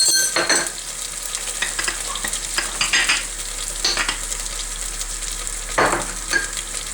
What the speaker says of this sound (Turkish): Şuraya pul biber koyuyorum.